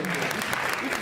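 Short burst of applause from an audience honoring event sponsors, dense and steady clapping with a faint voice mixed in underneath.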